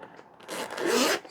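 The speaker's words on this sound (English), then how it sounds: "Really nice zipper. You open it, that's where you put your phone" Zipper on a waterproof Lamicall bike frame bag being pulled open, a single close, rasping zip lasting about a second that swells in the middle and then stops.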